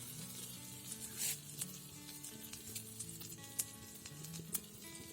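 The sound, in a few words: kasuri methi sizzling in the pan for pav bhaji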